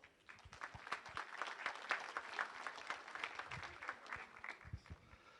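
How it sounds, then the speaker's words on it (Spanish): Audience applause welcoming a judge onto the stage, a dense crowd of clapping hands at a moderate distance, sustained evenly for several seconds with no voices. "Lo recibimos entonces al doctor José Luis Vega Roche con un fuerte y caluroso aplauso"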